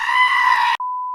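A woman lets out a brief, loud, sustained scream of frustration that cuts off abruptly, followed by a steady electronic beep tone.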